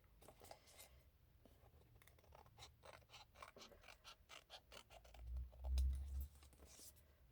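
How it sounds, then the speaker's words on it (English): Scissors snip along paper edges while making a mini envelope journal, a quiet run of rapid close clicks and cuts, with a heavier handling thump near the end. "I'm going to snip those edges."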